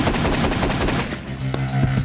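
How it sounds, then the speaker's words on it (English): A shotgun fires fully automatic in a rapid, loud burst of shots, then the booming echo rings out as the firing stops. "A single pull on the trigger fires one round. Hold it in, and I go fully automatic."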